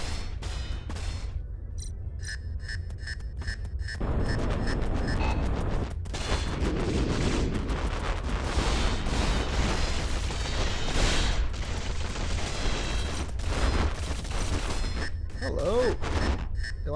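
Shotgun blasts and heavy gunfire in the video game A-Spec First Assault, loud booming shots with dense battle noise, someone talking over the action.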